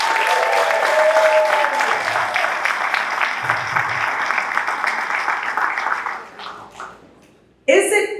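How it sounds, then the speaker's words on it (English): At an Independence celebration event, a crowd claps for a TV news crew; loud, full applause that thins and fades after several seconds before a voice starts speaking close up. "Could you please give Channel 12 a round of applause?"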